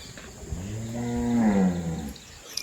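A cow on a village cattle farm in the rain gives a single long, loud moo that rises and then falls away, with faint steady background noise around it.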